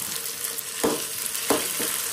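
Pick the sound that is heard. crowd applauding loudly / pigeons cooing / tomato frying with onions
tomato frying with onions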